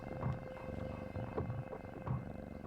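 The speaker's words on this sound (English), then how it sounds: "the bones vibrate rapidly, and the vocal cords generate the percussive drum roll of a purr" A cat purring up close, a steady low rumbling drone with soft rhythmic pulses as it breathes in and out.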